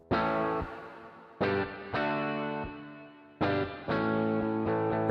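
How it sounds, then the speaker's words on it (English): Plate reverb from the IK Multimedia MixBox, applied to a bright, harmonically rich synth or instrument, with four sustained note bursts each trailing into a splashy decay, up close with no talk. "Okay, plate reverb."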